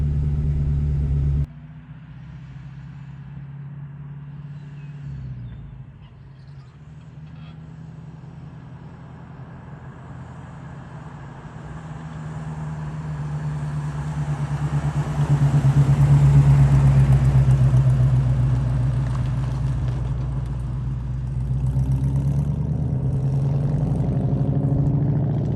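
A Dodge Challenger abandoned for 35 years, fitted with a new exhaust, runs with a steady low rumble near the idle range, then swells louder into a sustained revving drone around the middle before easing slightly.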